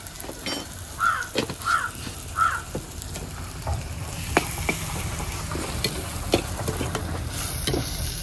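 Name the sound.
stirring fish masala frying in a pan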